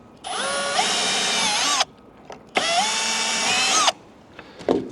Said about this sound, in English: there's 2 screws that go into the post, so you pre-drill them as well